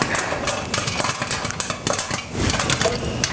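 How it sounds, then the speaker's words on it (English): Popcorn kernels pop inside a metal pot on a stove top, a dense stream of sharp cracks and rattling against the pan, loud and close with a steady busy rhythm. "My popcorn is popping at a nice steady rate, so I'm going to give it a little shake."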